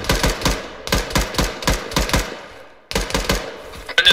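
Arma 3 machine gun laying down suppressive fire: loud, close bursts of rapid rhythmic shots, several short volleys separated by brief pauses, with one longer gap before a final burst.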